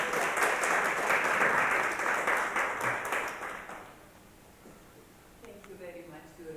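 An audience applauds after a lecture on designing inclusive ICT solutions for families, with a moderately loud burst of clapping that fades out and is followed by quiet speech.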